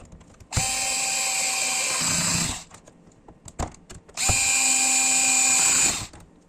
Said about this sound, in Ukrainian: Ще покажу, як він закручує ось ці довгі гвинти.